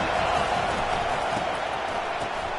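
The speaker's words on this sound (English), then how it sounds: "This crowd bringing the energy and noise early." At a Florida vs Florida State football game, a stadium crowd keeps up a steady, loud roar that fills the air with no single voice standing out.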